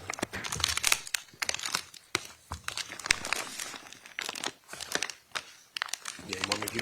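A bag is opened and rummaged through in a courtroom, giving continuous crinkling and rustling of plastic with scattered sharp crackles, close and steady, under occasional speech.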